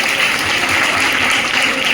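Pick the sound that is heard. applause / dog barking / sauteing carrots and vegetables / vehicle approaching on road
applause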